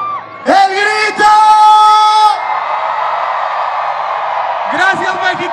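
A crowd at a live concert in Mexico roars and shouts together, loud sustained yells and whoops from many voices, fading into a broad cheering wash with fresh shouts near the end.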